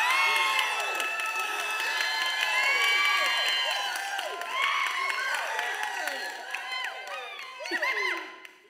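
A church congregation cheering and shouting in acclamation of the Lord: many overlapping voices whooping and calling out loudly in a reverberant space, swelling and dipping over several seconds.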